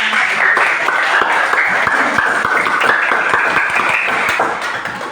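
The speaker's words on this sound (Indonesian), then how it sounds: "Tepuk tangan" Schoolchildren clap their hands together in a classroom, a lively burst of many small hands clapping at once, quick and overlapping, fairly close and loud, tapering off slightly at the end.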